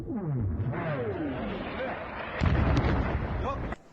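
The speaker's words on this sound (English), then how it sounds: "This was Dnipro before first light, an ammunition dump hit by a Russian airstrike." Before dawn in Dnipro, an ammunition dump hit by a Russian airstrike sends out rumbling explosions and sharp bursts, loud and sustained, under a news reporter's voiceover.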